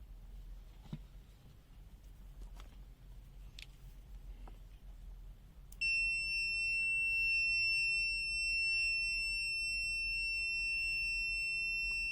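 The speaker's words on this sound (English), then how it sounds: "And let's see the continuity sound." A few faint clicks over quiet background hiss, then a HABOTEST HT125B multimeter's continuity-test beep, about 78 dB, starts and holds as a steady, continuous high-pitched electronic tone.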